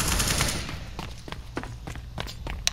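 Rapid bursts of gunfire in Counter-Strike: Global Offensive, a string of sharp shots crackling at uneven intervals over a dense, steady game background.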